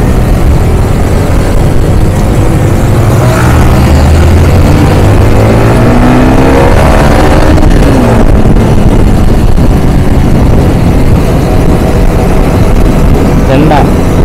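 A crowd of motorcycles rides past during a packed Independence Day rally in India, their engines a loud, continuous roar with revving swells as bikes pass close by.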